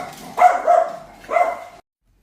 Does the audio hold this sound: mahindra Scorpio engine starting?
no